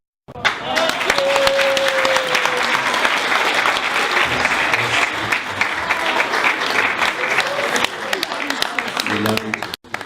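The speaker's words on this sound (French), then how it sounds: "On va applaudir Paul-Antoine encore une fois" Guests at a baptism and first communion celebration break into loud, sustained applause that holds for several seconds and then cuts off near the end, with voices mixed into the clapping.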